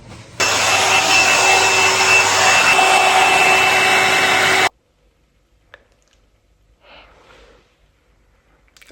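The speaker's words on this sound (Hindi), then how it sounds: "कम से कम बाल ही सुखा लूं" A hair dryer runs on a woman's hair at home: a loud, steady whirring blast that lasts about four seconds, cuts off abruptly, and is followed by a few faint handling noises.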